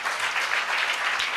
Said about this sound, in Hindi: ताली बजाकर प्रभु को महिमा दीजिए